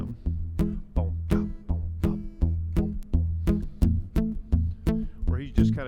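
Fingerpicked guitar in a groove, with a steady alternating bass thump under bright, snappy treble notes, played close and alone in an even, driving rhythm.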